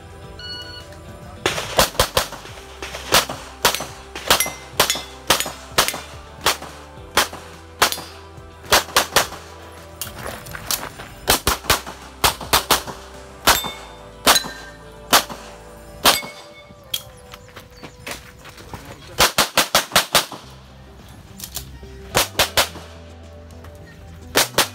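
Gunshots at a practical shooting stage, sharp loud reports fired in quick irregular bursts with short pauses between strings, heard alone outdoors.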